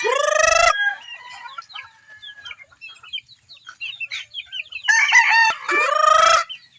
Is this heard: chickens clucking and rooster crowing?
yes